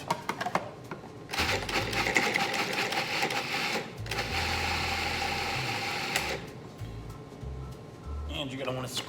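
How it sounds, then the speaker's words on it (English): Food processor whirs through zucchini and red lentil fritter mixture, running in several long loud bursts separated by short pauses, with a person talking over parts of it. "we're just gonna process this till it starts looking like a big old"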